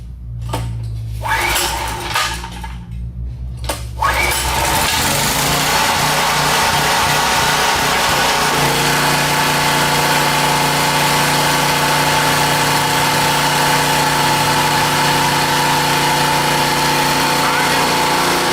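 A flood-damaged portable generator engine is pulled over with a few sputtering attempts, then catches and runs, settling into a loud, steady idling drone close by.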